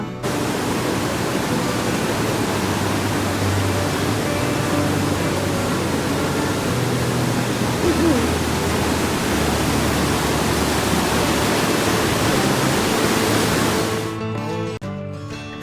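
Continuous loud rushing of the Rangit River flowing beside a deck at Bijanbari, Darjeeling, a steady broadband roar that holds for the whole stretch before cutting off near the end.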